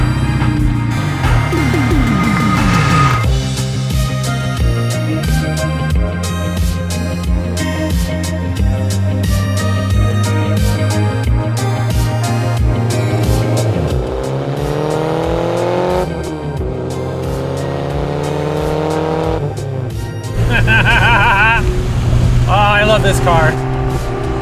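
A Porsche 944 Turbo engine revs and shifts through gears repeatedly on new tires, pitch climbing and dropping, with faint tire noise under a loud, close cabin drone.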